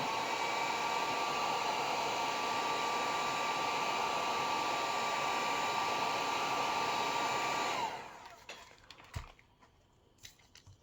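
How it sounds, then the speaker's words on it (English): A heat gun blows a steady, loud hiss while warming cured resin castings, running continuously for about eight seconds before cutting off, leaving only faint handling noises. "easier to heat it a little bit with your heat gun"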